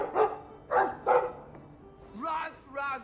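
A dog barks in the video game Dragon Age II, a few sharp, loud barks close together near the start, followed by softer, drawn-out tonal yelps.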